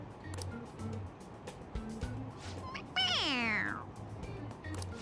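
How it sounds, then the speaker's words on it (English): A stuffed toy cat from the game Persona 5 Royal gives one loud, clear meow when pressed, with a falling pitch, rising above quieter game sounds. "It's a stuffed animal. Yeah, it's just a toy. It meows when you press on its head."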